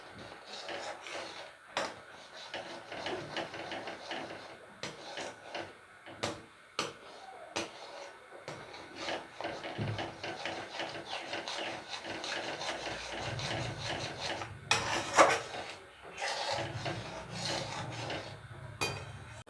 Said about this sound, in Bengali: একদম নাড়তে নাড়তে কমিয়ে আনবো